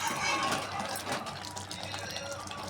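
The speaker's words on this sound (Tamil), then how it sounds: "பாருங்கள், கொதிக்குது பாருங்கள்." Mushroom gravy seasoned with ground pepper, cumin and fennel powder bubbling in a pan, a steady soft simmering hiss with light popping running throughout.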